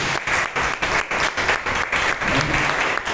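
A church congregation gives loud, sustained applause throughout, a dense steady wash of many hands clapping at an evening worship service, with no voices rising above it.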